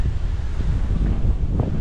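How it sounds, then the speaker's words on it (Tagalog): Strong wind roars and buffets against the microphone in a constant, rumbling rush with no pauses, over an open farm area ahead of a typhoon. "Lakas na ng hangin."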